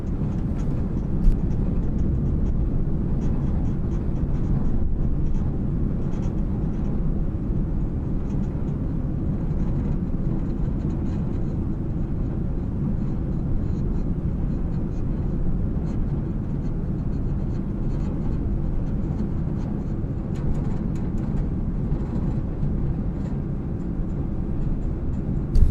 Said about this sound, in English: Oh, this plane sounds nice.